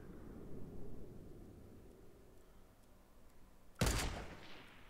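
Gunfire in the video game Fortnite: a sudden loud burst of shots near the end, after a low rumbling game bed with no talk.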